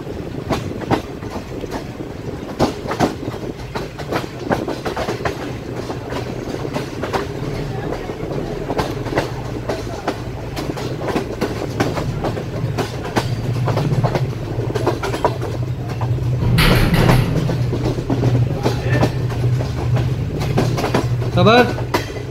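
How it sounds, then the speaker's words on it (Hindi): Aboard the Shalimar Express between Lahore and Shahdara, Pakistan, wheels clatter over rail joints in a steady rumbling clickety-clack that grows busier as the train gathers speed, with a brief squeal and a voice talking over it. "आहिस्ता आहिस्ता ट्रेन अपनी जो है वो पिक कर रही है स्पीड को"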